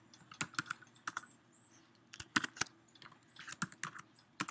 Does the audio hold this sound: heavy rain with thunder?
no